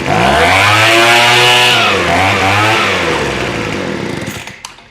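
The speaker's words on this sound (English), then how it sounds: "Now we're going to put her on full choke and give her a pull." A Craftsman gas leaf blower starts on full choke and runs loud and close, its small two-stroke engine whining at high revs, dipping briefly and then steadying before cutting off at the end.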